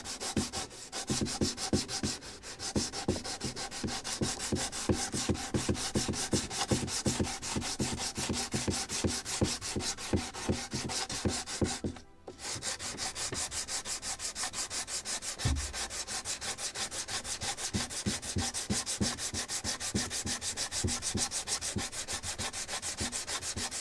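Steady, close rasping strokes of sandpaper worked over wood on a scale model of the 1776 gunboat Philadelphia, continuous and rhythmic with a brief pause midway, no talk.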